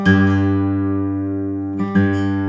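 A strummed chord on a 2007 Martin 000-42 acoustic guitar in drop D rings out and slowly decays, with a low, full bass, then the chord is struck again twice near the end.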